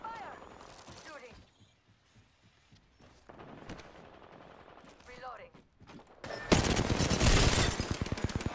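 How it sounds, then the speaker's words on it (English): Gunfire in the video game Apex Legends, scattered shots and mechanical weapon sounds under in-game voice lines, building to a loud sustained burst of rapid automatic fire at the end. "Taking fire! Shooting."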